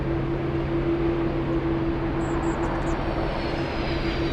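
A Lockheed C-130 Hercules takes off with a loud, continuous engine roar and a steady droning tone, heard from a distance as the sound holds at one level throughout.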